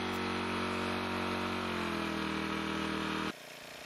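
A Wick 80 4H portable water pump's small engine runs with a steady droning hum and buzz, its pitch shifting slightly midway, then dropping abruptly to a quieter, lower idle near the end.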